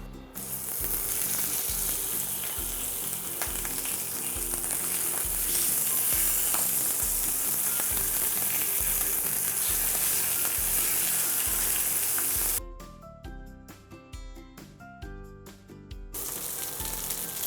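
Lamb sweetbreads (uykuluk) cut into chunks frying in a pan with very little oil, a dense crackling sizzle with rhythmic stirring clatter that drops briefly to a thinner hiss near the end, no talk.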